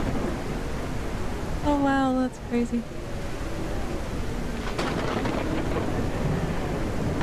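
Rainy storm weather ambience from the online crafting game BitCraft Online, a steady wash of rain noise with a rumble near the end, while a person speaks briefly over it.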